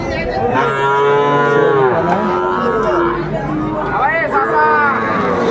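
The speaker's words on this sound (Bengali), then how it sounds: "ষাঁড় বাচ্চা" A young bull calf moos repeatedly at a village cattle market in Dinajpur, loud and close with long drawn-out calls, over crowd chatter and nearby talking.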